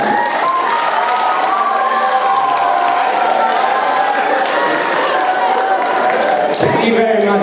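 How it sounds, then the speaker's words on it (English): Audience applause and cheering at an elementary school spring concert, a loud continuous crowd sound with clapping blended into voices and shouts, sustained across the whole stretch. "Let's give him one more round of applause."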